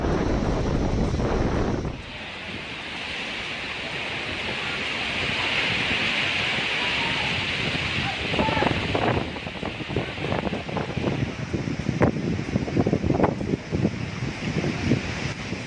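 Powerful cyclone winds of Super Cyclone Amphan lashing Kolkata, West Bengal, a loud sustained roar with rising gusts and buffeting bursts that grow rougher toward the end, no speech.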